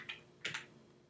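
Computer keyboard typing while entering a script path, a few quick separate keystrokes early on and then quiet, close and fairly soft.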